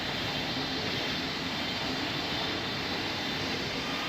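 A steady, broadband engine roar from an airliner taking off on runway 26 in the Roblox game Pilot Training Flight Simulator. The noise is constant and fairly loud, with no voices.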